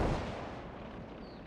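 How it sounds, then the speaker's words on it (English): Enemy mortar fire in the Call to Arms: Gates of Hell Valor mod, with Japanese forces against the USA: one dull, rumbling boom that decays into a long, broad wash of distant battlefield noise. "That's an enemy mortar."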